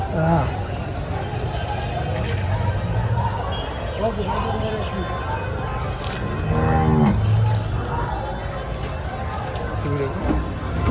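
A Gir cow moos a couple of times amid the busy murmur of a crowded outdoor cattle market in Dhule, with people talking nearby.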